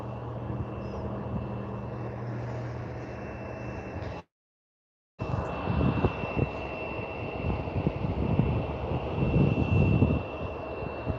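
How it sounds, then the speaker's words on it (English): A CRJ jet turning around on the runway at Vancouver International Airport produces a steady, distant engine roar and broadband rumble with a faint whine, broken by a one-second dropout before the roar resumes. "the CRJ is busting a U-turn on the runway itself"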